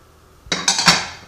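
New metal silverware is rummaged in a kitchen, giving three quick, bright clinks and rattles in close succession after a short quiet moment.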